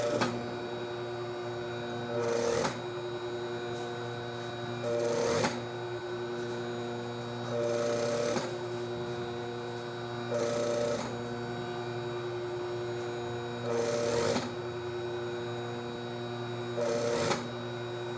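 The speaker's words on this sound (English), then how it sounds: "I'm going to start attaching the bias tape on the edge of the facing" A sewing machine attaches bias tape along the edge of a bodice facing with a quarter seam allowance, humming steadily at close range with a louder stitching burst roughly every two and a half seconds.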